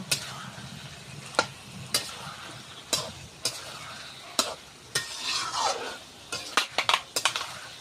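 Pointed gourd curry being stir-fried in a pan, a quiet sizzle under regular spoon strikes and scrapes against the metal, the clanks coming roughly every half second, close up.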